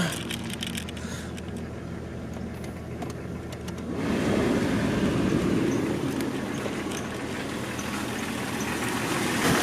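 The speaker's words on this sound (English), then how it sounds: "That compressor is spinning" A Jeep engine idles with its air-conditioning compressor engaged and spinning, a steady mechanical hum that swells noticeably about halfway through and then holds, close and moderately loud, with no talking.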